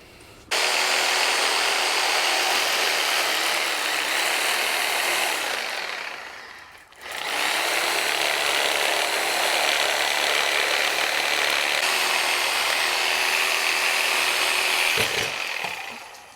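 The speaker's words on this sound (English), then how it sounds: "So the Sawzall, obviously, it's sort of a brute force tool, and it's good for initially getting it out of the pond basket with the roots fused" A Sawzall reciprocating saw cuts through fused pine roots to free a root-over-rock pine from a pond basket. The loud, continuous buzzing cut runs close and steady, drops out briefly near the middle, then starts again and carries to the end.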